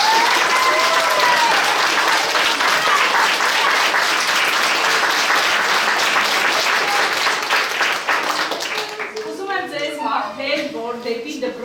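Audience at a kindergarten graduation ceremony bursts into loud, sustained applause from many hands, steady and dense before thinning out at the end as a voice begins over it.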